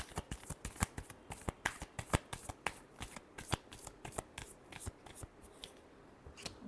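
Tarot cards shuffle close up during a Gemini weekly reading, a steady run of quick crisp riffles and slaps carrying on for several seconds with no voice over them.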